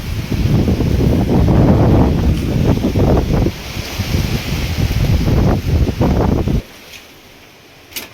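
An electric water pump motor runs on a farm while water gushes steadily from an open tap for irrigating a moong field, a loud broadband rush that drops off abruptly near the end, leaving only a faint hiss.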